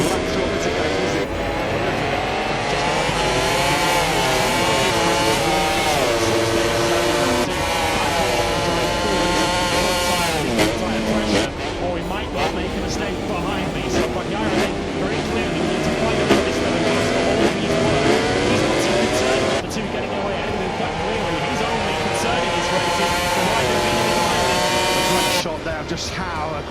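MotoGP bikes, including a Ducati GP23, racing at Sepang: loud, continuous high-pitched engine wail with rising and falling revs as the machines accelerate, under race commentary.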